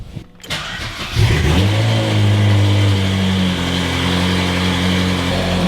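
A Ferrari fitted with a loud FI exhaust starts up with a sharp burst, then rises into a deep, throaty rev and settles into a strong, close, rumbling idle that runs to the end.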